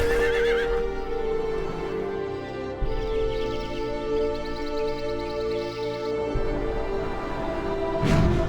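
Horse neighing in the fantasy strategy game Age of Wonders II, a whinny over steady game music with hoof clip-clops, ending in a louder burst near the end.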